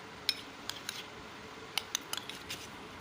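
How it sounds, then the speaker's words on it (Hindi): A spoon mixes potato chaat ingredients with black pepper in a bowl, giving faint, sparse clicks and light taps at close range in an otherwise quiet room. "मिक्स करती हूँ।"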